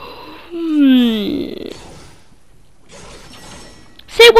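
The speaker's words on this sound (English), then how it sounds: "This is totally real yawning." A person fakes a yawn, making one long, close, drawn-out vocal groan that slides downward in pitch. Quieter rustling follows, then a brief sharp noise at the end.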